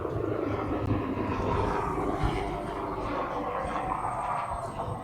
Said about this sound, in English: That's an MSP helicopter.